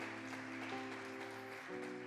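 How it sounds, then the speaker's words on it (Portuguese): A church congregation claps for the Lord during a worship service, with a steady wash of clapping under sustained organ or keyboard chords that shift pitch a few times. "Você pode aplaudir o Senhor?"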